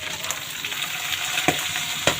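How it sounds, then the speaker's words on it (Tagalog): Moringa leaves fry with ground pork in a pan, giving a continuous close hiss and crackle with a few sharp stirring clanks, and no one speaks. "ilagay na natin itong malunggay."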